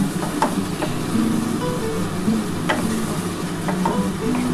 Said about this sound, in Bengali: ভালো করে কিন্তু আরেকটু কষাতে হবে এটা।